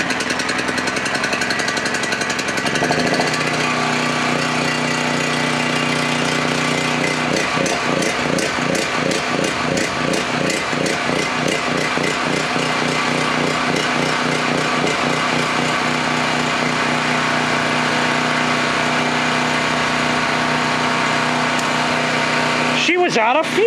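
A small engine cranks briefly, then catches and runs loud and close with a fast, steady rattling putter that continues for about twenty seconds before cutting off at the end.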